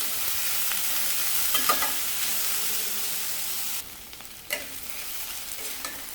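Chopped onion softening in oil for a drumstick and spinach bhaji fries with a steady, moderate sizzle, interrupted by a few stirring scrapes and a brief dip when the pan is moved.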